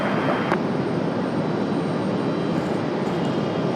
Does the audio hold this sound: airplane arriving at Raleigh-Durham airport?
yes